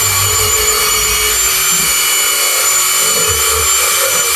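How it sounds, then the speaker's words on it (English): A wire wheel on a power tool grinds a label off a metal piece, a loud high-pitched steady whine with harsh abrasive rasp, continuous and close. "we're going to go ahead and clear that label off with a little wire wheel work"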